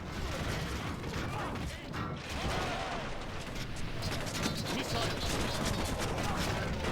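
Archers fire volleys in a Lord of the Rings Total War battle, a dense rattling clatter of many arrows and mechanisms churning continuously at moderate distance, with speech mixed in.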